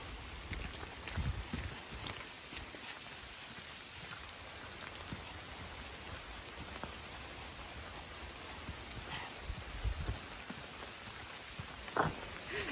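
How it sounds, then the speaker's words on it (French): Heavy rain pours down in autumn woods, a dense, steady patter of drops hitting leaves and ground all around, with a few sharper nearby splats and no talking. "il drache à mort"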